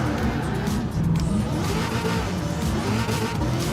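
A Gran Turismo 7 car with a supercharger drones loudly and continuously, its engine note and whine sustained with faint tire noise, no talking over it.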